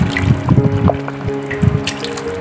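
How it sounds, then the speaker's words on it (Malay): Boiled beef tendon tipped into crisp-fried spice paste for a sour-spicy laksa, giving splashy wet plops and a sizzling, bubbling wash of liquid at close range, with no talking. "Jadi kita masukkan kita punya tetel yang telah kita rebus tadi"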